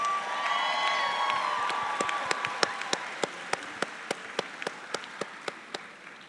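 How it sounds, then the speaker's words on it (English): A graduation audience at the UCR Black Grad 2019 ceremony bursts into applause and cheering, with whistles over dense clapping that thins into steady, rhythmic unison claps. "Let's give them a round of applause"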